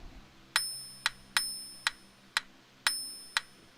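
A metronome ticks in a steady, mostly even pulse of sharp clicks with a bright bell-like ring, about seven beats, loud and alone with no talk.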